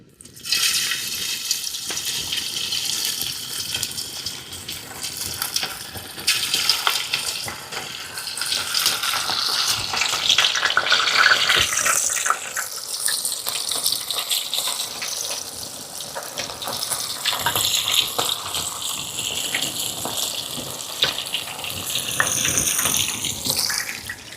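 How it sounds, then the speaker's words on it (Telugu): Chicken lollipops frying in a pan of fully boiling oil, village-style cooking, giving a loud, steady hissing sizzle that surges and holds throughout without any talk. "మన చికెన్ లాలీపాప్లు అయితే సూపర్గా ఎగుతున్నాయండి"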